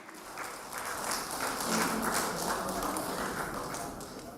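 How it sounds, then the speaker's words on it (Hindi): A crowd claps in warm welcome for a guest at a felicitation ceremony for women Union Ministers, sustained dense applause that swells in the middle and holds steady to the end. "हमारी बहन साध्वी निरंजन ज्योति जी के लिए जोरदार तालियों से अभिनंदन करें।"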